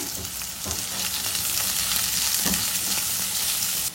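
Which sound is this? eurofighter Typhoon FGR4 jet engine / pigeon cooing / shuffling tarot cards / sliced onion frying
sliced onion frying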